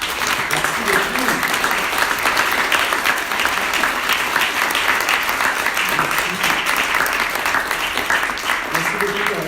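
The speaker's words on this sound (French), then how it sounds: "qu'on peut t'applaudir" Sustained, steady audience applause at a French talk and conversation event, loud, dense and even throughout with a few voices faintly mixed in.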